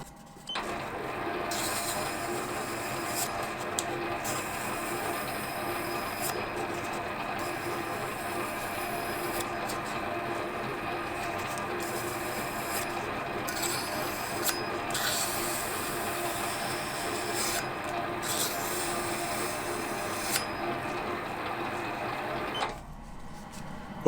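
Cast iron piston ring for a Jerry Howell V-twin IC engine being sanded with 400 grit paper, giving a steady, continuous abrasive rasp over a droning machine hum with no pauses.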